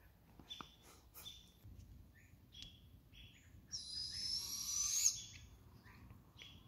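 Faint, distant owl calls and chirps sound over a quiet outdoor hush, with scattered short notes and a brighter, sustained chirping burst near the middle.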